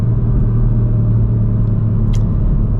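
Steady low rumble of a 2024 Ford Fiesta ST Mark 8.5 facelift hatchback driving on the road, a constant close engine and tyre drone filling the whole stretch with no talk.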